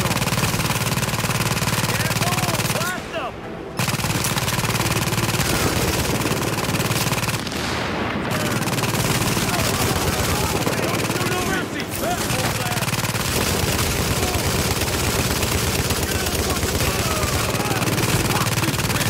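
Sustained machine-gun and rifle fire in The Division video game, loud and nearly continuous for the whole stretch with only brief gaps, plus occasional booms.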